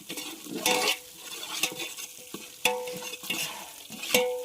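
Chicken fry stirred in a pan, with a spatula scraping and clinking against the metal in irregular strokes over a soft sizzle of hot oil.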